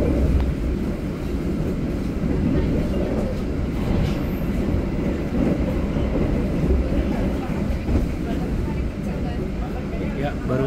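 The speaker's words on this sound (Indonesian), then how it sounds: "Baru saja kita berpapasan dengan kereta api Kaligung lokomotif livery vintage." Passing Kaligung train hauled by a locomotive in vintage livery, heard from aboard another train running from Cirebon: a steady loud rumble and rail roar fills the whole stretch, without clear individual clacks.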